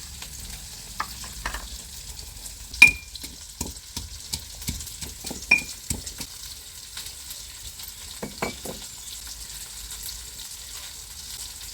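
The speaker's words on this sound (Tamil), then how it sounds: "வெங்காயம் நல்லா வதங்கி வரட்டும்." Onions sautéing in a pan for a village-style jilebi fish kuzhambu, with sparse soft crackles and occasional scraping stir strokes against a faint background hiss, fairly quiet and without talk.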